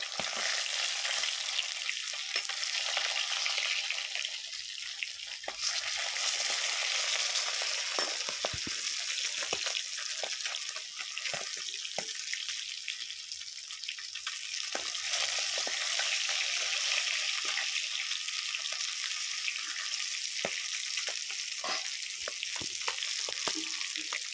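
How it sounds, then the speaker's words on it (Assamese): Fish fries under a lid in an iron wok, giving a steady, loud, close sizzling hiss that continues unbroken for the whole stretch with no talking. "মাছটো ঢাকি দি ভাজি আছো এতিয়া"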